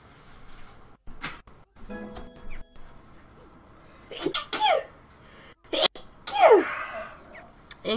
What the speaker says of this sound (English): That sneeze has been sitting in my nose for a little while.